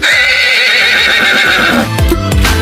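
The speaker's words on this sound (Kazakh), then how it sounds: "Жылқы." A horse neighs loudly up close, a long shaky whinny that trails off into a few hoof clops and snorts.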